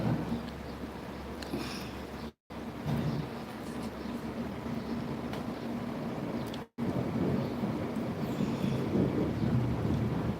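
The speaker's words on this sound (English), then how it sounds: "can hear a bit of thunder going around still" A storm in Cuba brings a low, continuous rumble of distant thunder mixed with wind and rain noise buffeting the microphone. The sound stays loud and steady, broken by two brief silent dropouts.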